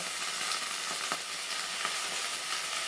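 Chopped eggplant frying in oil for a tamarind curry crackles with a continuous bright, hissing sizzle, close and fairly even, broken by a few soft stirring taps, with no voices.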